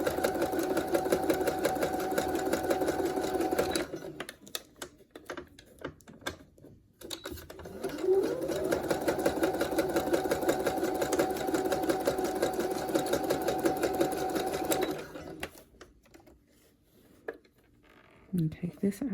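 A sewing machine stitches elastic onto a prom dress in steady whirring runs, pausing briefly midway, then resuming before stopping near the end.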